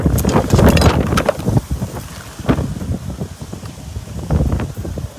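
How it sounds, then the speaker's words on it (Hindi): Very strong wind buffets an outdoor microphone in heavy, uneven gusts, a loud continuous roar with rising and falling surges and no talking. "बहुत तेज हवा है।"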